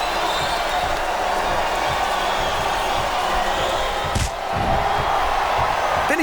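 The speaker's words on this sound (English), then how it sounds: "This capacity crowd is making their opinions known tonight." Arena crowd roaring at a WWE SmackDown vs Raw 2008 wrestling match, a constant loud wash of cheering with rhythmic thumps underneath and one sharp slam-like hit partway through.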